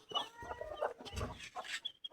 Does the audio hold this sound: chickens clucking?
yes